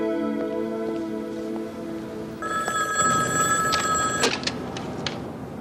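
A telephone bell ringing in steady tonal rings, first a lower tone, then a brighter, higher ring, over faint background noise in a room.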